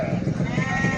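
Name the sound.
sheep bleating at livestock market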